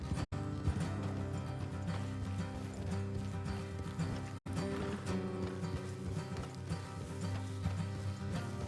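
Horses' hoofbeats in the Red Dead Redemption 2 video game, a steady clip-clop of several horses on the move, with faint tack and gear rattling and two brief dropouts.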